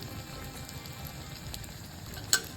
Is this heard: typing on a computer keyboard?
no